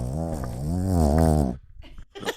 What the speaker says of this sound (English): She's just sitting here beside me snoring.